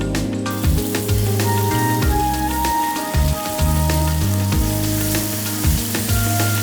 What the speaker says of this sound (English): So first we're adding the chili to the hot oil, and we need to caramelise that a little bit.